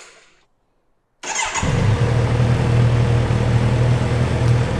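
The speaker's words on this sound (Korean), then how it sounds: "시동 한번 걸어볼까?" A Kawasaki Z900RS motorcycle engine cranks and fires after a moment of silence, then settles into a loud, steady, close-up idle with a low rumbling pulse that continues to the end.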